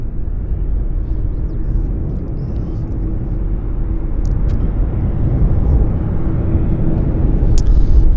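Steady low jet engine rumble from an airliner being pushed back from the gate at Vancouver airport, a continuous heavy drone that swells slightly toward the end, heard from a distance with no talk.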